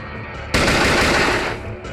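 Rapid machine-gun fire in the turn-based game SteamWorld Heist, a sudden loud burst lasting about a second after a quiet lead-in, then tailing off into low background noise.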